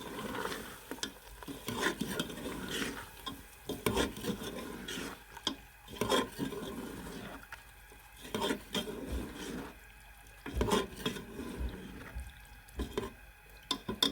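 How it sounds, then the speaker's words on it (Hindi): Chickpeas being stirred and mixed in a pot for creamy Lahori chana, a spoon scraping and rubbing in repeated strokes with a soft sizzle underneath, close and fairly quiet, no talk. "अपने चने ऐड कर देने। इसको आपने यहाँ पे अच्छा मिक्स कर लेना है।"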